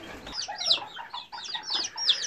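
A mother hen with her chicks clucking softly nearby, rhythmic low clucks mixed with high chick peeps repeating in short bursts, fairly quiet with no talking.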